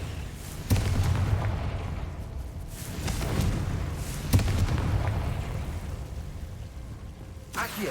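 Confringo spell explosions in the Hogwarts Legacy video game, several deep booms and blasts with rumbling tails over busy game noise, and a voice heard faintly underneath.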